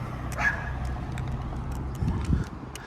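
A dog gives a couple of short barks and yips in an outdoor marina setting, moderately distant, over steady background hum and passing traffic.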